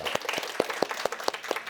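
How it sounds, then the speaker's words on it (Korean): An audience at a prenatal class for expectant mothers claps at the end of a lecture, with about eight distinct sharp claps in a fairly even rhythm, close and moderately loud. "박수 한번 주십시오"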